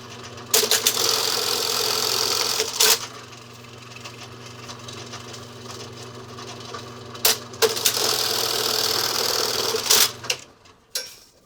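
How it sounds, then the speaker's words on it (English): A sewing machine bar tacks straps on a 20-litre bag in two quick, loud bursts of rapid stitching, with a low motor hum running through the quieter pause between them. "Okay, so we've got our straps bar tacked down."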